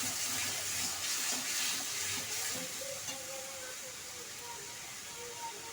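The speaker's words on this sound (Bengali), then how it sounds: "আদা রসুনটা দিয়ে খুব ভালো করে কষিয়ে নিতে হবে।" Ginger-garlic paste sautéing in a pan for a Bengali doi katla fish curry, a steady broadband sizzle with faint stirring scrapes, close and continuous, with no speech over it.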